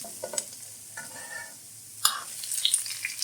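Thinly sliced onions dropped into hot oil with cashews, ginger and garlic for chicken roast, heard as bursts of stirring and scraping, then a sharp hiss and rising sizzle in the second half, close and with no talking.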